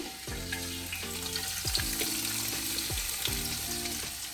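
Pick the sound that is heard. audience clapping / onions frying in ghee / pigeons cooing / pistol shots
onions frying in ghee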